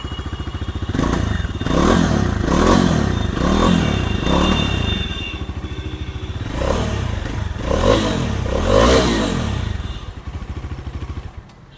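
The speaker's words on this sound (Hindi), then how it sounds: "सो ये जो है आइडल साउंड है, चलो वीडियो करके देखते हैं।" A Bajaj Dominar 400 motorcycle idles with a loud, close, deep thumping exhaust note that throbs rhythmically and swells a little in places before fading at the end, with no talking.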